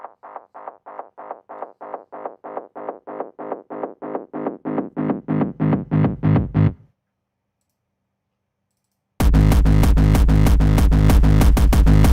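A synth for a hardcore remix pulses in rapid repeated notes that grow thicker and more distorted, stops in silence, then returns as a dense, harsh, gritty distorted buzz.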